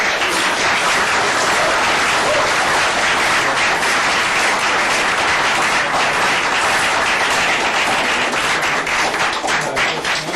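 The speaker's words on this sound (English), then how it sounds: "Let's give them a big round of applause." Long, even round of applause at a city council meeting honoring students, a dense, continuous patter of many hands filling the room at steady loudness for about ten seconds with no speech.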